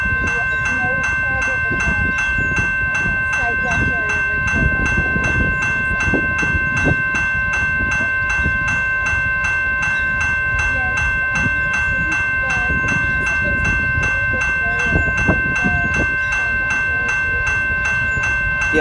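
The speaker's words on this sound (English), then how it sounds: "I'm waiting for the train to end." A BNSF coal freight train rolls past nearby in Fountain, Colorado, with continuous rumbling and rhythmic clanking of wheels, steady and loud throughout, with a high tonal whine overhead.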